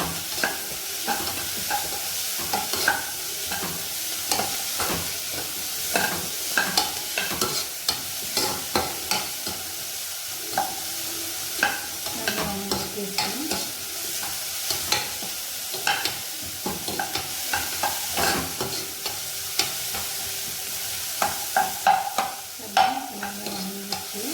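Tomatoes fry in a pan with steady soft sizzling while a spoon stirs and scrapes at an irregular rhythm, close and fairly quiet, with no talking.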